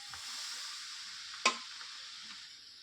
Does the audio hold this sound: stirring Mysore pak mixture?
yes